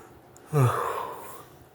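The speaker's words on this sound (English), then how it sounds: "See, I'm yawning." A person yawns once, a sudden breathy onset that opens into a drawn-out, voiced exhale fading over about a second, close and alone.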